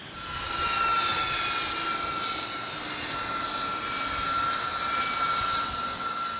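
A B-2 Spirit stealth bomber's engines make a steady, loud jet roar with a sustained high whine that holds level throughout, with no voices.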